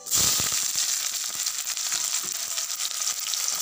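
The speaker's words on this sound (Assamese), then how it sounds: "মই এতিয়া পিঁয়াজখিনি দি দিম ইয়াত" Onions hitting hot oil with bay leaves, chilies and garlic, a loud sudden sizzle that settles into steady crackling frying with scattered pops.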